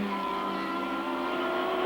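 A 1983 Tolman Toyota open-wheel race car at Lakeside Raceway howls down the main straight, a steady, loud, high-revving engine drone holding constant pitch throughout, with no talking.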